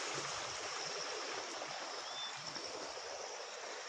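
Steady broadband rush of a small creek flowing, continuous and fairly close, with no voices.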